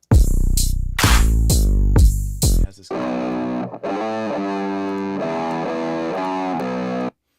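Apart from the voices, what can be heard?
tear-out bass sound designed in Ableton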